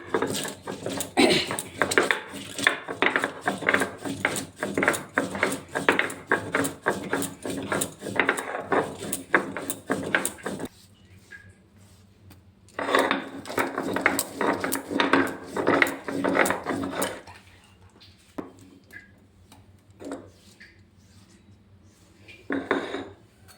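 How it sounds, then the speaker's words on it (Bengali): Spices are ground on a traditional shil-nora grinding stone, making rapid, rhythmic scraping and knocking strokes in two long bursts separated by a quieter pause, with sparse strokes near the end. "আমি তাই শিলনোড়াতে বেটে নিচ্ছি"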